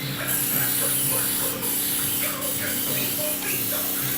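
A steady, loud hissing spray of water from a spray bottle runs almost continuously, with a few brief pulses as the bottle's trigger is pumped again.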